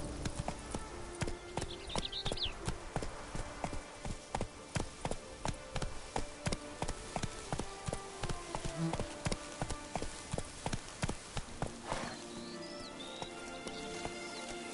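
Horse hooves clip-clop at a steady trotting rhythm in The Witcher 3, with close, regular hoofbeats that carry on throughout and a faint rain-like patter behind them.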